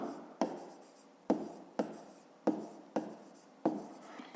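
Pen or pencil writing out a fifth-grade math solution by hand: six quick, sharp scratching strokes at close range, quiet and steady with no talking.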